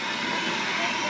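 A Shockwave jet truck's jet engines roar loudly at an air show, a dense, sustained, unbroken blast of engine noise.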